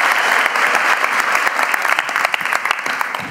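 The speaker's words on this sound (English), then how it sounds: "So a big applause already for you coming here" A crowd applauding steadily, dense clapping that stays loud throughout and tapers slightly at the end.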